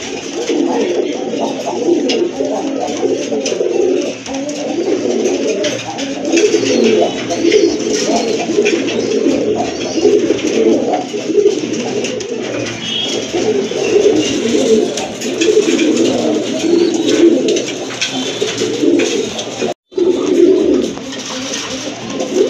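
A pair of pigeons kept for sale coo continuously and close, their low throaty calls overlapping in a dense, unbroken stream with one brief dropout near the end.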